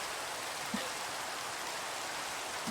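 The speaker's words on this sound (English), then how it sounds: "It doesn't rain this frequent in the real world." Steady rain falling in the video game Minecraft, a dense, even hiss of rainfall that holds unbroken throughout with no voices.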